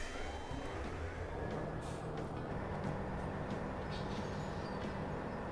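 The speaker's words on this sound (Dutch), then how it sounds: "Dus even de trein starten." A train starting up in the farming video game Farming Simulator 17, heard as a steady low rumble with rail and air-brake noise continuing evenly throughout.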